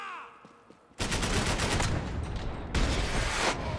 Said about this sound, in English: Oh, that was an assault rifle?